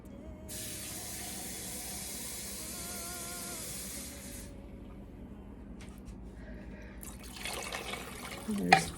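Water from a kitchen tap pours steadily into a cooking pot for macaroni noodles, a close, even hissing flow that stops after a few seconds, followed by quieter clatter and splashing.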